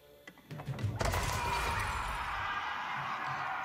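A horse whinnies in the real-time strategy game Age of Empires 4 amid the clatter of unit movement and hooves, a short neigh followed by a steady rush of game noise.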